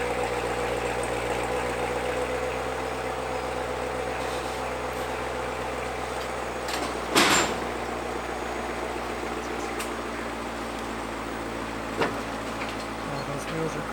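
A 2019 C7 Corvette Grand Sport idles after a cold start, a steady low engine drone heard from a short distance with a brief bump and faint background noise, no speech.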